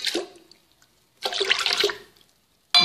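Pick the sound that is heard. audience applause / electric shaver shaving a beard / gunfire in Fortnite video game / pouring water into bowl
pouring water into bowl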